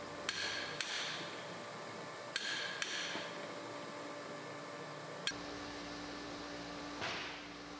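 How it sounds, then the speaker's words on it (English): A soft hammer strikes a metal ring gear on a Roxor front axle in several sharp, separate taps with ringing decay, spaced irregularly over a low mechanical hum. "gently strike off the ring gear with a soft hammer"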